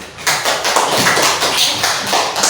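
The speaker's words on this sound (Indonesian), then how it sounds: "Tepuk tangan untuk kelompok 1" Classroom group giving applause for a student team: a burst of close, loud hand claps with sharp, uneven strikes, fairly dense and continuous for a couple of seconds.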